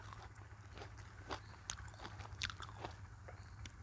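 Ripe, soft jujube fruit being chewed and bitten up close, a string of quiet irregular moist crunches and bites over a low steady hum, with no talking.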